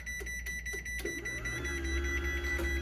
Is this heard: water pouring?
no